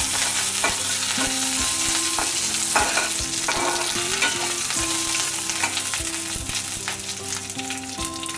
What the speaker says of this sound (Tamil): 2 வரமிளகாய், கறிவேப்பிலை போடுறேன்.